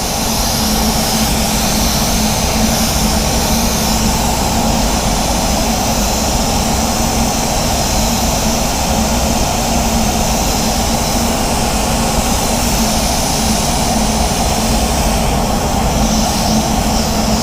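Spray gun laying base coat on a Barcelona Red Toyota Corolla, air pressure around 25 PSI: a steady, loud, unbroken airy hiss that runs continuously from start to finish with no pauses or talk.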